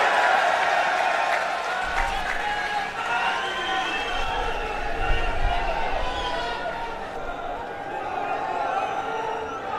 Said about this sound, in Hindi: जोरदार तालियां अरविंद जी के लिए।